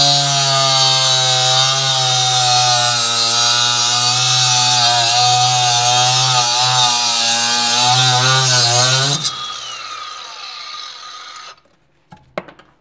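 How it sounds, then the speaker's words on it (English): A 4.5 inch cutoff disc on a cordless grinder cuts through epoxy coated rebar with a loud, sustained high-pitched whine and grinding screech for about nine seconds, then the motor spins down and falls quiet. "We're gonna be cutting on this epoxy coated rebar"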